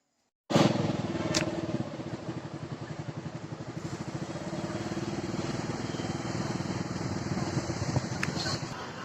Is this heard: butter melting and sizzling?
no